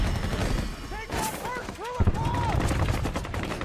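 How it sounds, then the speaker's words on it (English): Vietnam War battle gunfire, dense rapid shots and bursts crackling continuously from all around, with loud impacts and overlapping shouting voices in the chaos. "the incoming fire snaps me out of it. It's constant and coming from everywhere"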